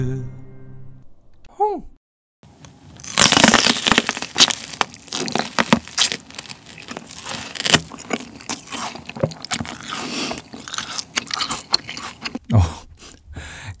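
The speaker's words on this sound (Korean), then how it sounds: "생으로 먹는 옥수수인데 맛있어." Raw sweet corn, the supersweet variety, is bitten and chewed up close, with loud crunching bites and wet crisp chewing repeated through the stretch and a short pause near the end.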